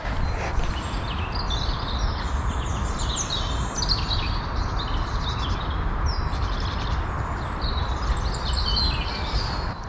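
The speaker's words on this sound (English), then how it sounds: "So many types of birds" A dense chorus of many different wild birds singing and chirping together, continuous and overlapping, layered over steady rustling outdoor background noise along a muddy mountain bike trail.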